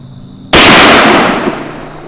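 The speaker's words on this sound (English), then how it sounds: "you just shot a doe" A single loud rifle shot from a deer hunt, one sharp close blast that rolls away into a fading echo over about a second and a half.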